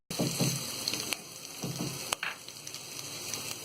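Ginger garlic paste sizzling in hot oil for sambar, with turmeric powder stirred in; a steady close frying hiss broken by a few sharp clinks of a utensil against the pan, and no talking.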